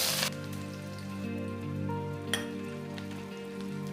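Onion frying in hot oil in a kadai as a bitter gourd dish is started, a steady close sizzle with a sharp burst at the start and a brief crackle midway, no voices.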